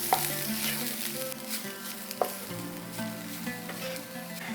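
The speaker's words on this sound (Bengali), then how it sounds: "এরপর একটু নাড়াচাড়া করে নেব।" Stuffing for stuffed pointed gourd (potol), made with raisins, gourd pulp and grated coconut, is stirred and fried in a pan. A steady sizzle runs throughout, with a few utensil scrapes and clinks, and no one speaks.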